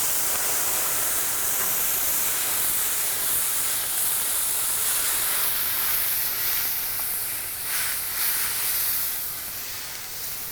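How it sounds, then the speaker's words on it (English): A hot sauté pan deglazed with dry Fino port gives a steady, loud, broad sizzling hiss that holds for about ten seconds and eases slightly near the end. "What we're going to deglaze with is some Fino port, some nice dry port."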